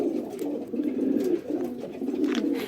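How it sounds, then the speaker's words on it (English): Pigeons cooing in nest boxes lined with straw, a steady close, low throaty burbling coo repeated continuously, with no talk. "the birds do like to play with the bits of straw"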